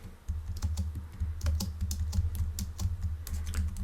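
Keys clatter on a computer keyboard in a quick, uneven run of close, crisp presses that continues steadily for a few seconds, with no voices.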